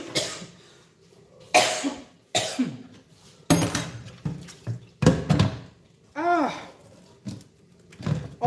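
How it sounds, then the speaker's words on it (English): Several sharp, close coughs from spicy pepper in uneven bursts, with a few throat-clearing sounds between them and quiet gaps. "the pepper is really spicy, that's why I'm coughing."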